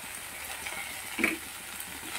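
Ginger paste, with some garlic, fries alongside vegetables in a hot pan for a Bombay duck fish dish, giving a constant close sizzle with a brief louder crackle midway.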